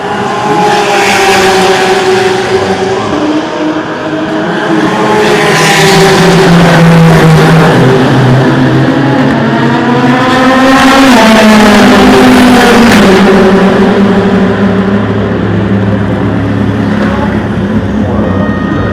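A race car at the 2016 Le Mans 24 Hours qualifying pulls out near the weighing area. Its engine roars loud and close, with the pitch climbing and falling through the revs, and there is no talk over it.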